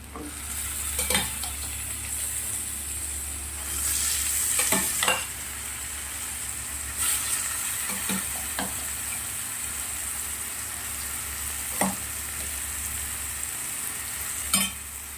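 Soaked soybeans fry in a pan with a steady sizzle, broken by several sharp scraping stirs and clinks of the spatula against the metal, close and fairly quiet, with no voices.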